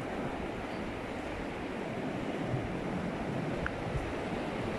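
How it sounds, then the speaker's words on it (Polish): Sea waves wash continuously onto a beach at Hook of Holland, a steady broadband surf roar at moderate distance with no talking. "I tu od razu morze."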